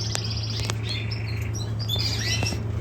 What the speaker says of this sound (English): And right here we have the crested canaries.